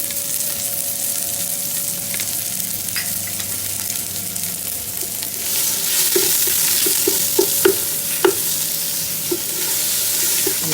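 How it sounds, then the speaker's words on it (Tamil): Onions frying with salt in a pan for a Sri Lankan mutton curry, a steady close sizzle with a spoon scraping and stirring, the stirring knocks growing more frequent partway through. "நல்லா கிண்டிடுவோம்."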